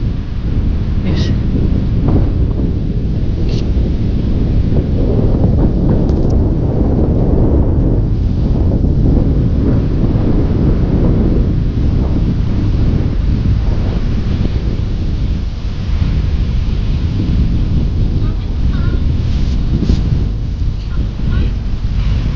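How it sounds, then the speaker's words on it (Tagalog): Strong wind roars and buffets the microphone continuously while cycling in Canada, a dense rumbling noise throughout with occasional gusts and faint voices underneath. "Lakas ng hangin."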